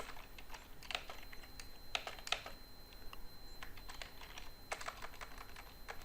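Someone types a report header on a computer keyboard, producing quiet, uneven clusters of soft key taps against a faint steady background hum.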